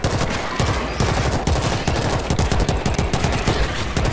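Rapid gunfire from the World War Z video game crackles loud and dense, shots firing in quick overlapping bursts with no pauses for the full stretch.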